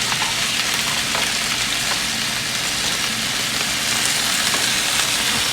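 A turkey burger patty frying in a pan over medium-low heat gives a dense, even sizzle that is loud and close, with no break and no voices.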